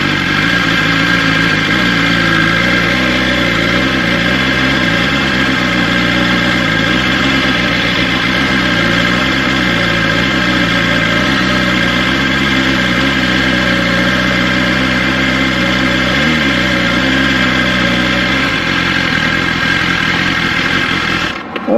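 BMW S1000XR motorcycle engine idling steadily at close range for about twenty seconds, a loud continuous even rumble with slight wavering as the clutch lever is worked, dropping off near the end.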